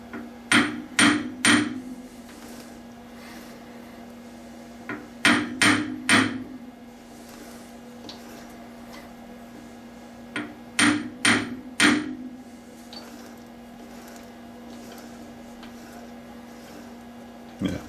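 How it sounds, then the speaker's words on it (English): Saw arbor held in a 3-jaw lathe chuck being tapped with a copper drift: three separate bursts of three or four sharp close metallic taps, each burst followed by a lingering ringing tone, with quiet gaps between. "And I use a copper drift."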